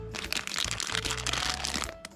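A small plastic bag of accessories for a Fodsports FX 30 C Pro headset is handled up close, giving a steady run of crinkling and crackling for about two seconds, with no talk.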